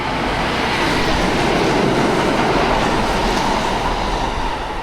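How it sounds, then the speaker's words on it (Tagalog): A train pulls into a station in Japan with a loud, continuous rumble of wheels on rails. It comes from close by and fills the whole stretch without a pause, with no voices over it. "Waiting na lang kami sa tren na dumating."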